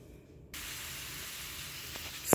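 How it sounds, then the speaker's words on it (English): Catfish sizzles on an electric grill griddle, a steady hiss that starts abruptly after a brief quiet moment and holds evenly, ending with a short clatter. "Can you hear that sizzling?"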